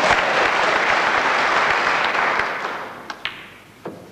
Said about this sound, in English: listen to that cheer from this vast audience, and Higgins and White level the match